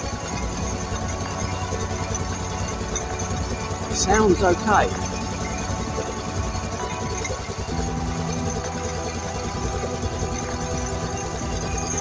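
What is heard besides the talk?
motorcycle engine idling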